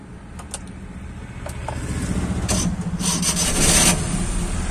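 A car engine is started during a driving lesson at a motor driving school in Karimganj, Assam; a low rumble builds after a few clicks and rubs, then holds as a close, steady running hum.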